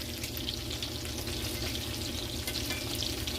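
Angus beef meatballs fry in a pan for a casserole, giving a loud steady sizzle with scraping and stirring noises as they are turned and coated. No one speaks.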